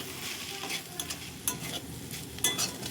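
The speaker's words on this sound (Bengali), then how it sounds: "ধনেপাতা কুচি দিয়ে ভালো করে কষাতে থাকবো, যতক্ষণ না পর্যন্ত আলুগুলো পুরো সেদ্ধ হচ্ছে" Potatoes being sautéed and stirred in a pan with chopped coriander leaves, a steady close sizzle broken by scraping stirs and a few sharper clacks of the spoon.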